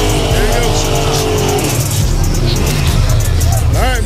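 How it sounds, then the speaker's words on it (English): A donk race car engine runs loud and steady at a drag strip event, a heavy low rumble filling the whole stretch while people talk over it. "They got the car running."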